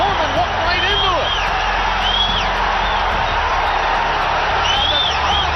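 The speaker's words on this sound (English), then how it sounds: "And the crowd going wild" Boxing arena crowd roaring and whooping loudly after a big right hand knocks down a fighter, a continuous dense wall of cheers with shrill whistles rising above, commentary talk running underneath.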